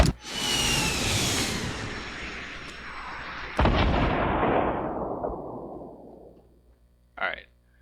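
Rocket launcher blasts and explosions from a Fortnite match: a loud burst followed by a rumbling decay, a second sharp blast mid-way, and a smaller pop near the end.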